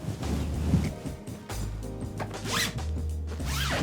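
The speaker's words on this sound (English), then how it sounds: "Draw each side of the zip together and then follow through with the zip." A zip is drawn closed on a Le Sac cover, producing a run of rasping zipper pulls in several strokes with brief pauses, close and fairly clear against a quiet room.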